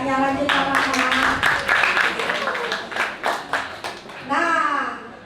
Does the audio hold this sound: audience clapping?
yes